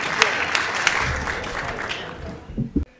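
An audience at a Hindi comedy poetry gathering claps to welcome the poet Ashok Nagar, a dense burst of applause that gradually thins and tapers off with a few last claps.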